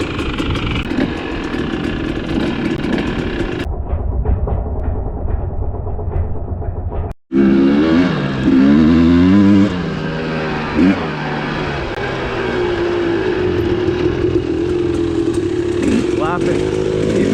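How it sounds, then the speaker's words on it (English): A 2020 Husqvarna TE300i dirt bike rides a trail, its engine revving loud and close with rising and falling pitch, cut by a brief drop in the middle before the motor returns strongly and holds a steady drone. "taking the Husqvarna TE300 out for a spin"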